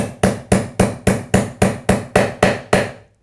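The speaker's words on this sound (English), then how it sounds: "We can go ahead and start that just with a hammer." Ten evenly spaced sharp hammer strikes drive a bearing into a Crankbrothers bicycle pedal through a 10mm socket, each metallic knock ringing briefly before the next, close and loud, then stopping.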